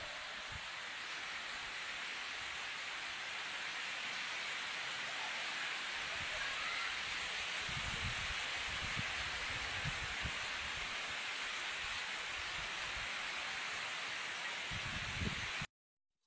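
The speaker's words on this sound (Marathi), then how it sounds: "जोरदार वारा सुटला आहे आणि पाऊस पण आहे त्याच्यात." Strong wind and rain sweep over a Konkan village in the evening, a loud steady roar and hiss with gusty rises and occasional low rumbles, continuing without pause.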